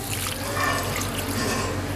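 Water pours steadily into a beef karahi pot for a restaurant-style curry, a continuous close splashing trickle with no talk.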